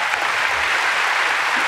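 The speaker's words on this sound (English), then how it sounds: "Everyone give her a round of applause." Audience applause at a live talent event, a steady dense wash of clapping sustained throughout without any voices over it.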